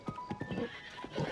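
Horse hooves trotting in a quick clip-clop rhythm with a short neigh, from Zelda: Tears of the Kingdom, close and fairly faint with no talk.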